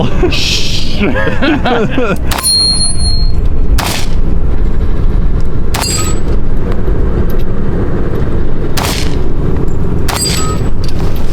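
A 1911 pistol fires at zombie targets on an outdoor range, giving about five sharp, loud reports spaced irregularly a second or more apart over a low background rumble.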